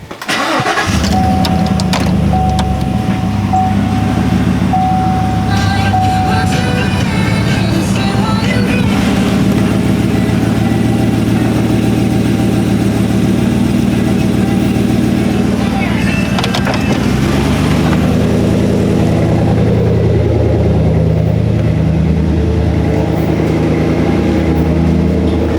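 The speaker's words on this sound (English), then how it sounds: "I'm going to drive out now, then I can lower it back down" Vehicle engine running and moving out from beneath a boat engine hoisted during removal of a blown Mercruiser engine, a steady loud mid-pitched drone that shifts in tone partway through, with a voice speaking over it.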